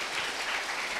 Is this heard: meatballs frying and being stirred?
no